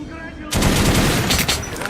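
Rapid automatic gunfire at a shooting-range dummy in Metro Last Light bursts in suddenly after a quiet start, a loud sustained stream of shots with a voice speaking beneath.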